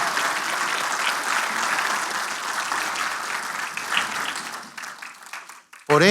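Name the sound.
church congregation clapping for Christ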